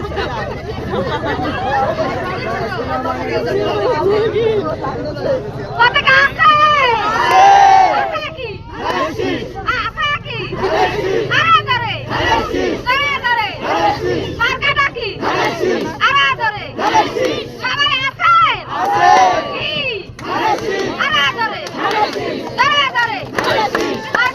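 Crowd at a Bangladeshi election rally chanting slogans in rhythmic call-and-response bursts, loud and close, with a leading voice shouting each line and many voices answering in repeated waves.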